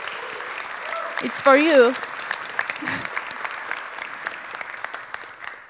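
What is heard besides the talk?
audience applause for conference organizers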